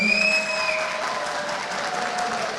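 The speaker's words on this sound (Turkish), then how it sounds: "Karabük'ü alkışlıyoruz" Audience applause at a municipal consultation meeting with civic associations in Kağıthane, a steady wash of clapping from a seated crowd, fairly close and continuous, with a faint tonal voice trace early on.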